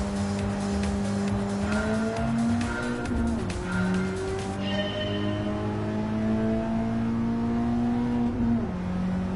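A racing car engine in Gran Turismo 7 drones steadily with rising and falling revs and gear shifts, tires squealing now and then, loud and continuous with no talking.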